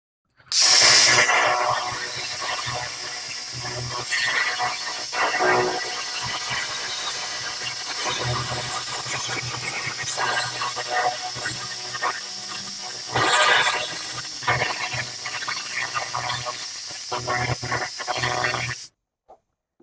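Laser cleaning rust off the cab floor of a 1971 Ford F100 truck produces a continuous close hiss and crackle, with brief louder bursts near the start and again midway before it cuts off.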